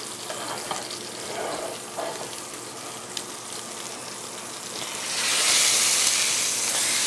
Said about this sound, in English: I just kind of want to rotate it on the pan.